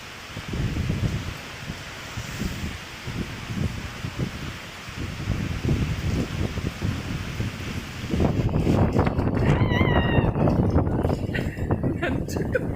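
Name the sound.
rain coming in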